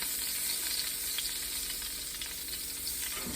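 Butter melts in a pan with a steady, fairly loud frying hiss that holds evenly throughout, no voices over it.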